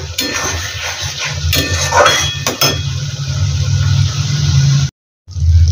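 Spiced chickpea masala frying and being stirred in oil in a kadhai, a continuous sizzle with clinks of a metal spoon scraping the pan, steady and close, briefly cut off near the end.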